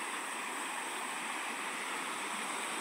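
Steady rushing of flowing river water, a continuous broadband wash with no voices, close and fairly even throughout.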